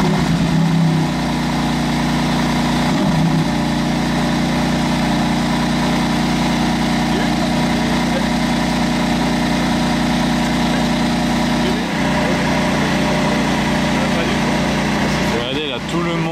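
Mercedes-AMG One with a Formula 1 engine idling as it warms up, a steady, loud, buzzing mechanical hum that holds even throughout, while people talk nearby.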